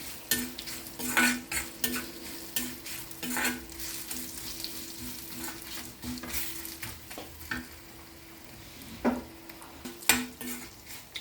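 A tempering of spices with asafoetida crackles and sizzles in hot oil while a utensil scrapes and stirs against the pan in repeated strokes, close and busy, with no talking.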